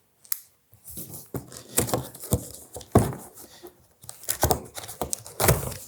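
Cardboard packaging around a HORIZN STUDIOS H5 Essential carry-on suitcase being cut open, a string of short scraping and slicing sounds with brief pauses, close up and fairly quiet, with no talk.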